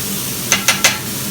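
Vegetables sear on a Wood Stone gas plancha under a soft background sizzle, broken by three quick, sharp scraping clicks of a spatula turning them.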